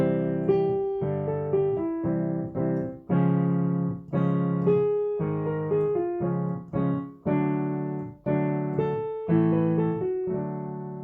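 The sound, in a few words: piano chord transition for choir warm-up exercise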